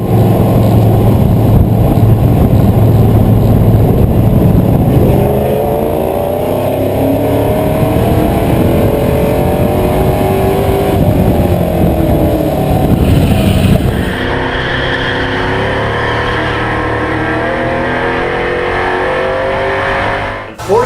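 Race cars in a grassroots heat race, a loud sustained engine roar close by with rising and falling revs as cars pass, then a steadier drone as the pack continues around the track.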